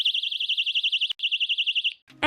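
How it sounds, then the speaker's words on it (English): A personal safety alarm keychain, set off by yanking out its pin, shrieks with a loud, high warbling tone that pulses rapidly, breaks off for a moment, resumes, then stops abruptly before a brief rustle. "to activate the alarm, you yank this out"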